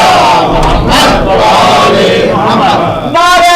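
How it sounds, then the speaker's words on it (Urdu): Large gathering at a Muharram majlis chanting salawat in unison, a loud, sustained roar of many voices filling the space, ending with a single strong voice rising at the close. "صحیح صلوات پڑھ دو محمد وآل"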